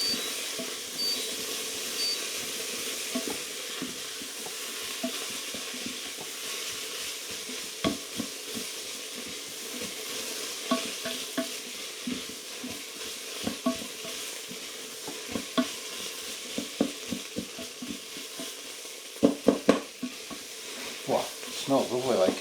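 Carrots and onions cook in a soup pot with a steady low sizzle, and a spoon scraping and stirring adds irregular clicks and knocks that grow busier toward the end.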